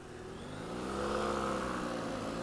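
A BMW F800GS Adventure motorcycle's parallel-twin engine revs up in a single rising pull, building to a steady, loud drone before easing slightly, heard from the rider's position with wind noise and no talk.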